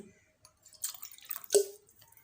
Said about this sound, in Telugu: డైరెక్ట్గా రాగి చెంబుతోనే ఇలా కొంచెం నీళ్ళు పోయండి ఫస్ట్